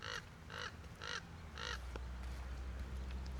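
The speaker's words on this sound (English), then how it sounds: "There's a crow up there." A crow calls four harsh caws in a steady rhythm, fairly close and clear against quiet outdoor background noise, then falls silent.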